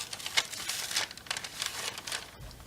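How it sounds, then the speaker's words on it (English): The backing sheet of an iron-on transfer is slowly peeled off a T-shirt, giving a soft, faint crinkling and tearing rasp in several small bursts. "And then slowly peel it off."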